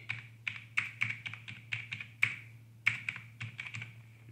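Someone types on a computer keyboard at a desk, with a dozen crisp, close, irregularly spaced key clicks and a steady low hum underneath, and no talking.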